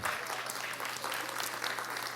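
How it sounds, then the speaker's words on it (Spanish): Brief, fairly quiet burst of audience applause at a talk on growth models in the cooperative sector, an even, continuous patter of clapping with no voices over it. "Ese aplauso es para Adriana, no para mí."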